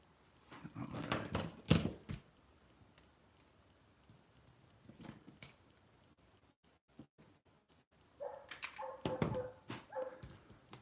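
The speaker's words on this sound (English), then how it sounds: "Sounds like the neighbor's dog is happy today." A neighbor's dog barks and yips in short bursts a few seconds apart, faint and somewhat distant in a quiet outdoor setting, with long near-silent gaps between outbursts.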